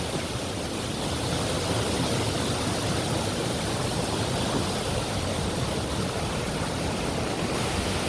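Steady, dense rush of falling water crashing over wet rock close by, a broad unbroken roar that holds level throughout with no voices.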